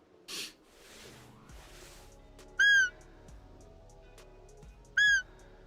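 Birds, likely ptarmigans, in the hunting game theHunter Classic give two loud, clear, descending whistled calls a few seconds apart, over a faint outdoor ambience with a soft rustle at the start.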